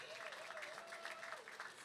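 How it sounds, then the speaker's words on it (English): Audience applause at a national youth rally honoring a young Dominican student, a steady dense patter of clapping heard alone across the short stretch, fairly soft and distant. "Can we give her a round of applause"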